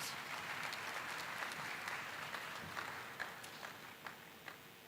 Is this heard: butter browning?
no